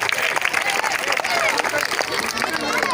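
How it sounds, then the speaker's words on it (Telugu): An audience at a public gathering bursts into applause, dense and continuous clapping from many hands mixed with crowd murmur and a few voices. "గట్టిగా చప్పట్లో"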